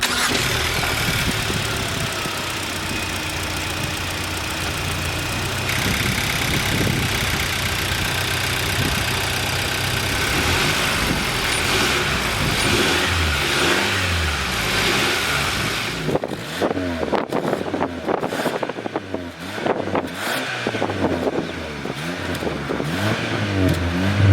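A 2021 Hyundai Sonata N Line's 2.5-liter turbocharged four-cylinder engine idles steadily up close, then revs up sharply in several rising bursts toward the end.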